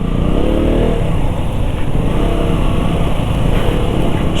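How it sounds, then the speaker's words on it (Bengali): A Honda Hornet motorcycle rides along the road from Kolkata to Siliguri with a steady, close engine drone and rushing wind. The noise runs continuously and loudly throughout with no one speaking. "ও চালাচ্ছে হন্ডা হর্নেট,"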